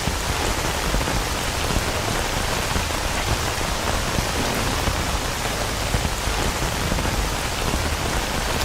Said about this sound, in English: I could turn off the head drops, raindrops on the helmet effect